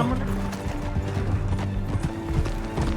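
Horse hooves clip-clop steadily over a dense, constant background of rumbling sound, with a few whinny-like tones mixed in and no clear talk.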